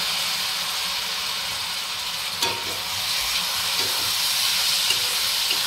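Finely chopped tomatoes frying in hot oil over reddened onions for paneer bhurji, a close, loud steady sizzle with a few stirring knocks and scrapes partway through.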